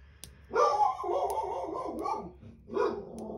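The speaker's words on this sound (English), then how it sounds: "I apologize for the pupper barking." A dog barks repeatedly, loud and close, in a few sustained bursts with short pauses between them.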